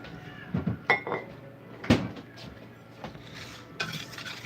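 Dry gluten-free biscuit ingredients mixed with cold chunks of dairy-free fake butter in a bowl, giving scattered scraping and clinking knocks in an irregular rhythm, close by, with faint talk.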